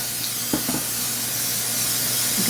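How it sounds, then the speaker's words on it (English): An aerosol can of cooking spray sprays onto a pie pan in a steady, continuous hiss for a couple of seconds, close by, with a couple of faint taps at the start. "So spray your pie pan"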